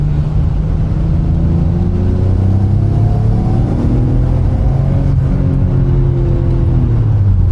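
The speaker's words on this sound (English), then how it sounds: "This car sounds amazing." A Nissan Stagea 260RS engine drones loudly while driving, its pitch rising and falling through gear changes under steady road and wind rumble, with no voices heard.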